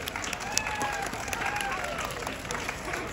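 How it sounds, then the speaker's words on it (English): Audience applause with some cheering follows a magic trick at an event, a fairly faint and distant wash of clapping and crowd noise that stays steady, with a few whistles or shouts above it. "Give her a big round of applause."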